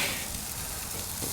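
Meat sizzles steadily on a grill with a dense, even crackle, up close and alone with no talking.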